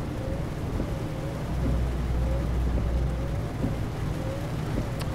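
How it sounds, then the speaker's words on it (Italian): Steady rain hisses under a low rolling rumble of thunder in Euro Truck Simulator 2 near Verona, continuous and moderately loud with faint clicks scattered through. "Adesso piove anche."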